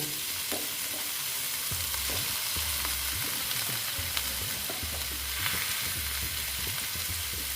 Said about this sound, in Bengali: এখন আমি এখানে সয়াবিনগুলো দিয়ে দিচ্ছি এগুলো আমি ভেজে নেব